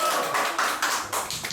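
Audience applause at a speech contest, a dense wash of many hands clapping steadily for the full stretch, loud and close, with no voices over it.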